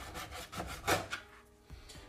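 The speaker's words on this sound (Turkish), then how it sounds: "Bakın eti iyice sıyırıyorum, farkında mısınız?" A knife scrapes and slices through meat being trimmed for iskender, giving close, soft rasping strokes in a rough rhythm with one brighter stroke in the middle and no talking.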